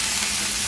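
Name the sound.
shrimp poured into hot pan, sizzling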